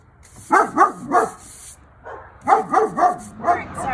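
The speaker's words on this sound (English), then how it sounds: "I had to get rid of my dog, put her inside. She's barking at the neighbors." A dog barks at neighbors outdoors, close by and loud: quick bursts of two or three sharp barks come in two groups with a short pause between them.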